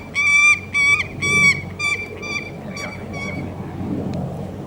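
A captive bird of prey at an owl centre flying display calls excitedly, a series of several loud, harsh honking cries close by that trail off into softer ones over outdoor background noise.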